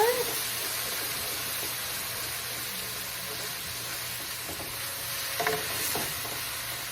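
Meat stock being stirred in a pot for lamb shanks in mushroom sauce, a steady soft swirling and faint sizzle running throughout, with a few brief clinks near the end.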